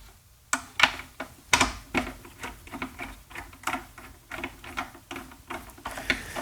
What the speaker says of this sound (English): I'm going to get some screwdrivers or nut drivers and loosen off the speaker here and get the chassis out